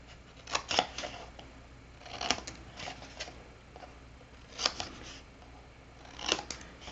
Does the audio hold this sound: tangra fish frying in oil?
no